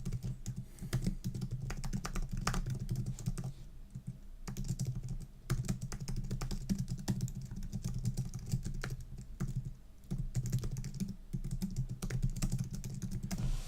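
Typing on a computer keyboard, a close, steady patter of key clicks with short pauses between bursts, fairly quiet, with no talking.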